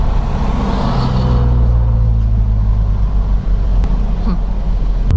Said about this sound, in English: these downshifts sound ridiculous